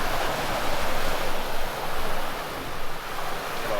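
Open-ocean waves in the middle of the Indian Ocean, heard as a steady broadband wash of surf and rushing water with gentle surges, close and continuous, no voices.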